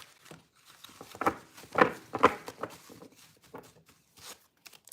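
Tarot cards being shuffled by hand, a run of soft irregular riffling and slapping bursts close by, some louder snaps, with no talk.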